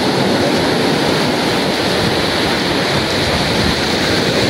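Ocean waves wash onto Jimbaran beach in Bali, a loud, continuous broadband roar of surf with no voices over it.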